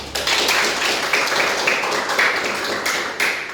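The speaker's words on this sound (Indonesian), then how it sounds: "Aplaus untuk Irma." Classroom applause during a teaching session, a dense wash of many hands clapping together, steady and fairly loud throughout with a few sharper swells.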